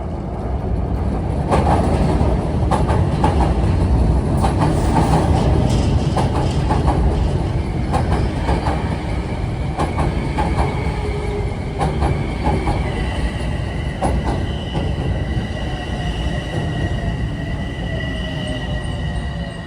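A commuter train rolls along a Harlem viaduct under reconstruction, loud and close, with a continuous rumble, clacking wheels over rail joints and squealing wheels throughout.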